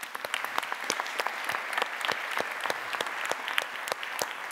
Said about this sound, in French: Ça fait du bien, les applaudissements.